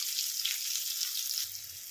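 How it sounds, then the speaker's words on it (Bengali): Steady hiss of baby corn frying in oil, loud and close, easing slightly toward the end. "এটা ভেজে নিয়ে আমি ফেরত আসছি"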